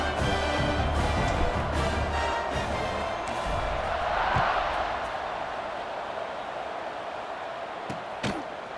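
Steady roar of a stadium crowd cheering in a college football video game between Duke and Boston College, a dense constant wash of noise with a few sharp thuds and slaps, no clear talking.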